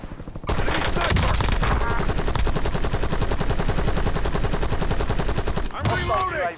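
Sustained rapid automatic gunfire in the shooter game Warzone, dense and loud for several seconds, with game sounds and brief chatter at the end.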